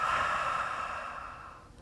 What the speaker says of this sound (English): Deep in the nose, out the mouth, stick out the tongue.